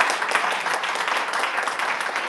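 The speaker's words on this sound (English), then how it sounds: "Round of applause?" Audience at a realtors' gathering applauding after a question session, a steady, fairly loud patter of many hands clapping at once, with no speech over it.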